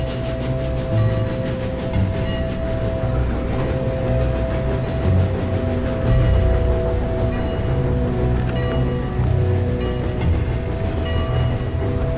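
A train runs steadily on rails, a continuous loud rumble with rhythmic clickety-clack from the wheels and a low hum that lasts throughout, with no voices.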